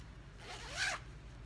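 One quick pull of a lime green zipper on a peach garment rasps close and clear, lasting about half a second, with no one talking.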